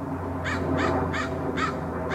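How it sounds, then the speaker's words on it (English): Four crow caws, each a harsh, ringing call, repeat at a roughly steady pace and carry clearly over a constant low background hum outdoors. "Another crow."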